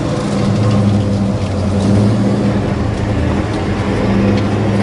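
A 1966 Chevrolet Chevelle SS with a four-speed and no power steering pulls away in gear, its engine rumbling loud and steady up close with no talk.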